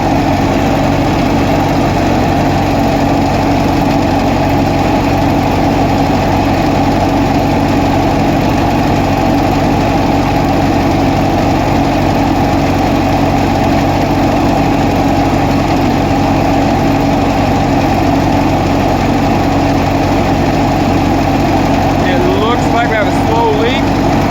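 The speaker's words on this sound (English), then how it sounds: "I'll let her idle for a little longer than that." An old, cheaply refurbished tractor engine idles steadily and loudly for the whole stretch, a continuous low rumbling drone with even vibration and no change in pace.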